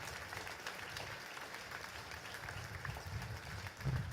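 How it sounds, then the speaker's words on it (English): An audience gives a round of applause at the opening of the O-Train Confederation Line, a faint, steady patter of clapping at a distance lasting a few seconds. "If they could rise up and get a round of applause for these women and men."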